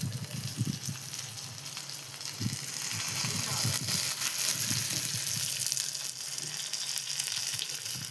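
Fish frying in a pan of hot oil, a continuous loud sizzle and crackle with occasional low thumps and bubbling bursts underneath, close and sustained with no clear talk.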